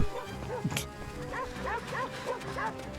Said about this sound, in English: Oh wow, these dogs are vicious.